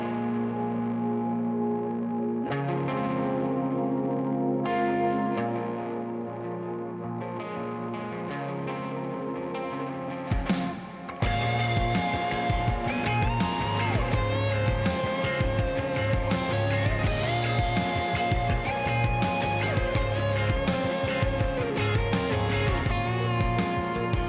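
A polished studio mix of a guitarist's own song begins with sustained effects-laden guitar chords, then breaks into a full, dense band with distorted, chorus-soaked guitars, loud and continuous with no talking.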